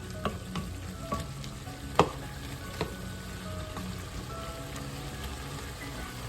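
Chayote squash sautéing in a pan while being stirred makes a quiet, even sizzle with scattered spatula clicks and taps, including one sharper knock midway; no one speaks.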